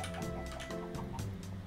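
Chicken in the Minecraft video game giving soft, repeated clucks in a quick irregular rhythm, fairly faint, with no talk.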